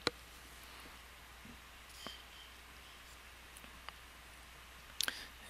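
Computer mouse clicks in a quiet room, a few sharp faint clicks scattered irregularly, a pair close together near the end, over low background hiss without speech.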